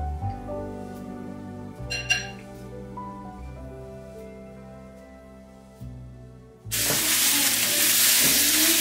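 A vegetable stir fry hits the pan with a loud, close, hissing sizzle that bursts in late and holds steady. Before it there is a quieter stretch with faint tonal hum and a brief glassy clink.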